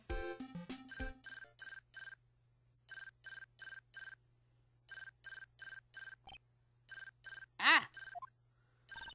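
Telephone ringing in Ace Attorney: Justice for All, a repeating electronic ring in short evenly spaced bursts over a low steady hum, with a brief exclamation and a sharp chime partway through.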